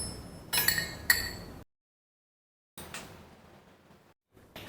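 A metal spoon clinks against a drinking glass in a quiet room: two bright, close clinks in quick succession, a short rattle, then silence before softer scraping and tapping sounds return.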